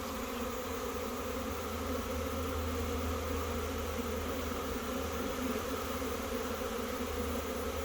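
A honey bee swarm buzzes in a steady, dense, continuous drone, close and loud throughout without pause or talking.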